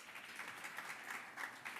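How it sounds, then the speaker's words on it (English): Applause from an audience at a Small Enterprise Development & Finance Agency event, welcoming committee members: steady, fairly faint clapping that holds evenly across the clip with no voices over it. "Round of applause."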